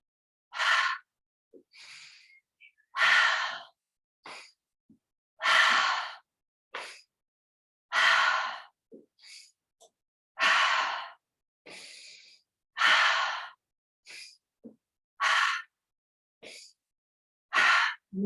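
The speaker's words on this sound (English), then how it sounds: "we breathe in through the nose and out through the mouth" Fast yoga breathing, in through the nose and out through the mouth, with short sharp breaths repeating in a steady rhythm, close and alone.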